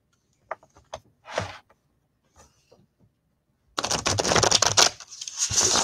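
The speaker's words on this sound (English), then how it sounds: "I just want to show you guys how I can actually shuffle these cards real quick" A small, hand-sized tarot deck being shuffled: a few faint taps come first, then a dense, steady run of papery riffling and card flutter, close and fairly loud for about two seconds.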